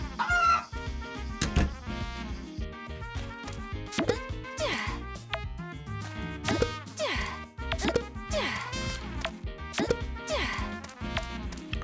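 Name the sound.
chickens clucking in video game Story of Seasons: Pioneers of Olive Town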